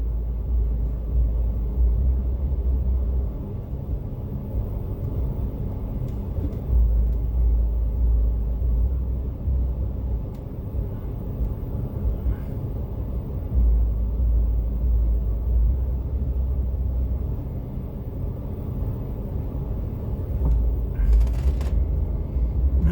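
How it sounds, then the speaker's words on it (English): A truck rolls slowly beneath elevated train tracks on a Chicago street, giving off a steady, heavy low rumble with pulsing engine drone that swells and eases throughout, with no talking. "That truck shouldn't be there."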